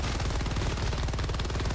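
Rapid automatic gunfire from Helldivers 2, a dense, continuous burst of loud shots firing in quick succession for the whole moment with no talking.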